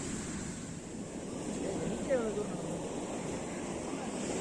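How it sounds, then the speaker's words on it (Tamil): Morning ocean waves wash onto a beach at Chavakkad, a continuous low rumble of surf mixed with wind noise, with a brief bird call in the middle. "ஸோ மார்னிங் டைம் பார்த்தீங்கன்னா வேறு லெவலில் வேவ்ஸ் வந்துட்டுருக்கு"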